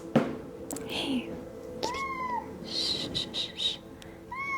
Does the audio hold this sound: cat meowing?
yes